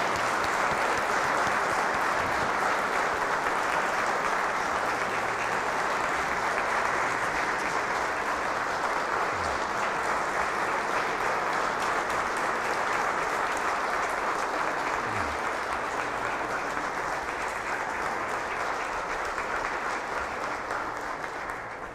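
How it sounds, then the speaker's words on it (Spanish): A church congregation gives the priest a long, steady round of applause that fills the whole stretch, dense and sustained without letup. "con este fuerte, cariñoso aplauso le manifestamos"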